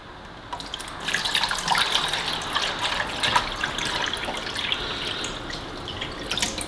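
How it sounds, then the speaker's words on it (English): Water trickles steadily through a Zero Water filter tank as a litre slowly filters, a soft continuous wash of liquid with faint drips, close by and alone with no talking. "It's filtering. It's a very slow filter."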